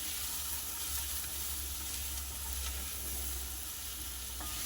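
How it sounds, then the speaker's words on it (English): Garlic sizzling and frying in a hot pot while lobster pasta is stirred, a steady close hiss with scraping stir sounds and no talking. "we're going to give this a stir around"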